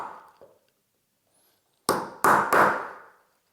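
A nail is hammered into a round piece of wood to deepen its centre mark before turning it on a lathe: three sharp, loud knocks in quick succession after a quiet pause.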